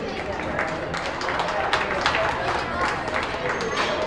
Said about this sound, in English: Let's give this young lady a round of applause for bringing out such a nice effort